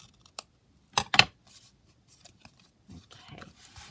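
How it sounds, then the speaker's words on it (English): Scissors trim the bottom edge of a paper foldout booklet, giving a few quick, crisp snips close by, followed by faint rustling of the paper. "trim off this bit at the bottom"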